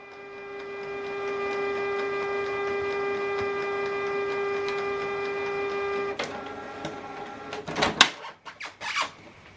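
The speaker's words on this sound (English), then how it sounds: "Switch the printer on." Canon Pixma MG3650 inkjet printer powering on, a steady whirring mechanical hum for several seconds, then clicks, clunks and bursts of motor whine as the ink holder shifts into position, close and alone.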